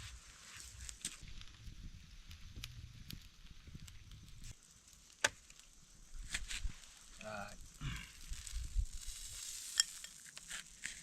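Fish grilling over a campfire alone in the forest gives a faint, crackling sizzle with scattered pops and clicks, while a voice talks quietly over it.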